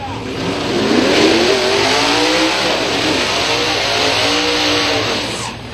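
Big block nitrous drag race cars, including a Camaro, roar at a raceway with rising engine revs and a sustained loud drone that fades slightly at the end, with talk faintly under it.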